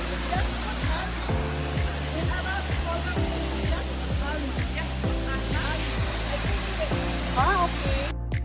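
Steady rushing roar of the Al Hada waterfall in Taif, a desert setting, constant and close throughout, with people chatting over the falling water.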